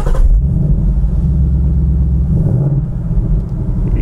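A 2018 Ford Mustang GT V8 on the road gives off a loud, steady low engine rumble with a slight rise in revs partway through, heard from inside the car with no talk.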